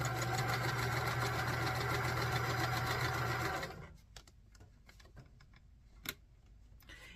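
A sewing machine runs steadily for several seconds joining quilt pieces, a close, even mechanical hum and rapid stitching patter, then stops, leaving quiet handling clicks and soft taps of fabric.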